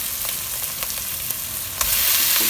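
Fish sizzles in hot oil in a home kitchen, a steady soft frying hiss with a few faint pops and a surge of louder crackling near the end.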